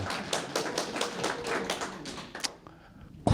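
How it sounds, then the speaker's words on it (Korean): Audience at a public hearing on erecting statues at a Korean community centre in Atlanta, clapping in a quick, fairly steady burst of applause that thins out and stops near the end. "박수 치세요. 치려면 크게."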